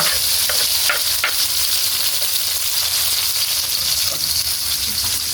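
Garlic, onion, tomato and ginger sautéing in a pan give a loud, continuous close sizzle, with a few light spatula scrapes and taps as the mix is stirred.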